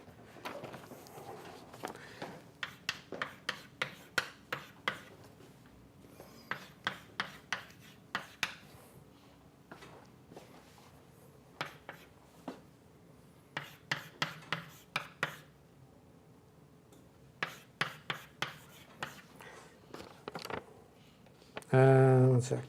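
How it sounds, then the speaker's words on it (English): Pen or chalk strokes writing out mathematical terms, a run of short scratchy taps in clustered bursts with pauses between, close and fairly quiet, ending in a louder thump. "So let me write them down."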